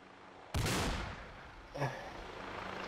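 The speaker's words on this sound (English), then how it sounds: "it's me firing an RPG" RPG fired in a dark outdoor setting: a single sharp, loud blast followed by a decaying rumble, then a second fainter boom about a second later, with no talk.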